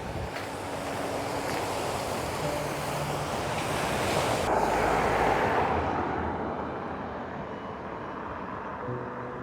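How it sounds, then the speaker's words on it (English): Surf rolls onto the shore at Aberdeen Beach on the Scottish coast, a continuous broad wash of waves swelling and easing, mixed with steady wind rumble and no voices. "The old harbour, original harbour, and Aberdeen Beach."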